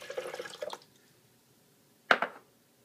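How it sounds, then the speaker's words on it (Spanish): Freshly opened coconut water pours into a blender with a brief burbling splash at first, then after a pause a single sharp wet splash or clink, close and moderately loud. "Vamos a agregar el agua de coco que recién abrimos."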